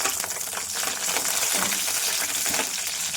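Green chilies frying in hot groundnut oil, a steady close crackling sizzle with small popping bursts, continuous and fairly quiet with no talking.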